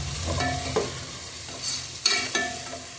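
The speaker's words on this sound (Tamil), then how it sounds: "பச்சை மிளகா லைட்டாக வதங்கினா போதும் ரொம்பலாம் வதங்கக்கூடாது" Green chillies sautéing in a pan for mushroom biryani, with a soft steady sizzle and a few clinks and scrapes of a spoon stirring, close by and with no one talking.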